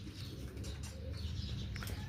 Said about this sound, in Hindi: ये लाल मोती वाला कबूतर है, साथ फ्रांसी मादी है